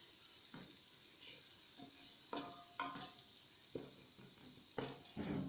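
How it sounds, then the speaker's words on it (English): Tomatoes being stirred into browned onions for a Kenyan minced meat stew, a quiet sizzle under several distinct spoon scrapes and knocks against the pot, fairly faint overall. "We're putting in our tomatoes, and then I'll give it a good stir."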